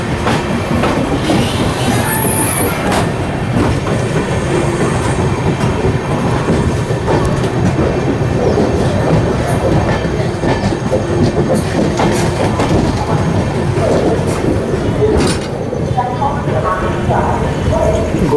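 A Motibagh-based ALCO diesel locomotive pulls a train into Gondia junction, its loud continuous rumble and wheel clatter filling the whole stretch up close, with faint voices mixed in.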